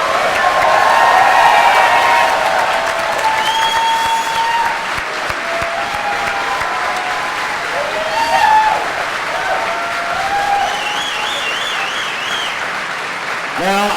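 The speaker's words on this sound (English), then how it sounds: "How about a round of applause for this incredible cast?" A large convention audience applauds and cheers for a film and TV cast, sustained dense clapping with whoops and shouts rising over it, loud and near, with voices calling out throughout.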